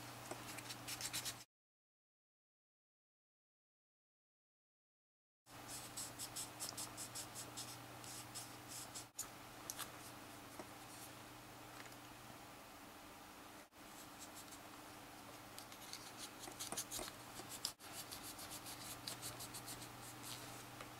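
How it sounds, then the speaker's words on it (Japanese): Steady dry rasping of 1000-grit sandpaper polishing a Gunpla plastic part after gate removal, a continuous close-up scrubbing texture that stops briefly near the start, then resumes unbroken with a low hum underneath. "今度は1000番で磨いていきます。"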